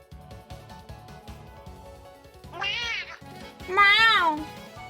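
A voice imitates a cat's meow twice, two drawn-out, rising and falling meows at close range, the second louder, over steady background music.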